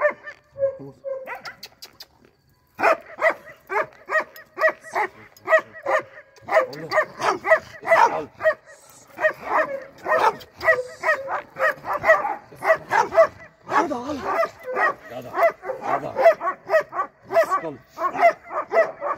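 An anxious dog at a dog-training session barks in rapid, loud, repeated bursts for most of the stretch, close by, after a short quieter start.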